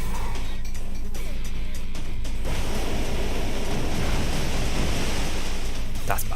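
Water Spout attack from a Pokémon battle game, a loud continuous rushing, splashing water roar with scattered crackles that fills the whole stretch steadily.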